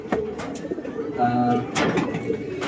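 Racing pigeons cooing while being fed in a loft, soft repeated throaty coos close by, with someone talking over them.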